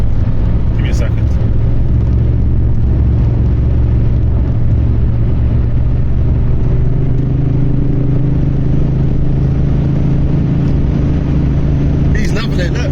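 Supercharged V8 of a Jaguar X308 XJR running loud and close, a constant deep rumbling idle with a faint whine, with brief voices on top.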